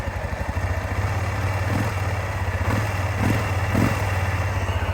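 Four-wheeler ATV engine running close by with a steady, throbbing mid-pitched idle, a few soft clunks as it is put into gear, no talking.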